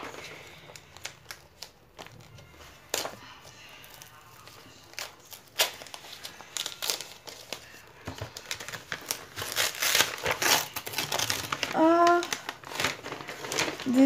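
A prize parcel won in a contest is opened and unwrapped, with close paper crinkling, rustling and tearing that builds in loudness toward the end. Quiet voices are heard in the background.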